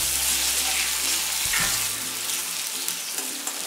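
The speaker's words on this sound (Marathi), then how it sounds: "त्यात आता आपण बारीक चिरलेला टोमॅटो घालणार आहोत. पण छान आपण परतून घ्यायचं आहे" Finely chopped tomato sautéing in a pan while making stuffed eggs, a steady broadband sizzle with a brief clatter midway, close and continuous, then settling to a softer frying hiss.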